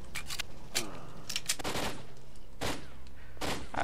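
Pistol shots from Lost Alpha, set in Pripyat, crack out in several sharp separate reports at irregular intervals, loud and close, with no talk.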